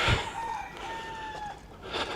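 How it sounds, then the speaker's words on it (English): A cockerel crows once at a beach walk by playa Paraíso, a drawn-out call at middle distance, alone over faint outdoor background. "Where is that cockerel?"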